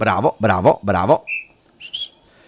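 During a live Juventus vs Torino football match broadcast, a referee's whistle gives two short shrill blasts right after a man's loud spoken bursts.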